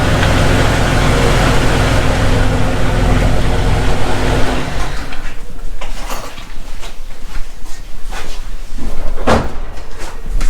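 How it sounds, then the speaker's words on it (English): A steady, loud engine rumble from a straight-piped Jeep Cherokee exhaust idles in a garage for several seconds, then settles into a rougher drone with occasional sharper clunks. "I thought the exhaust is pretty quiet"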